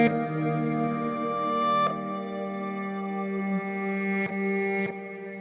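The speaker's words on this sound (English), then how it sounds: "put that through a convolution reverb, put it through a real space. So here I'm using Revolve's Uppsala Cathedral" A sustained synth tone with a stereo tremolo effect, placed in a convolution reverb built from an Uppsala Cathedral impulse response, giving a long, rich cathedral tail; the note shifts a few times and there is no voice.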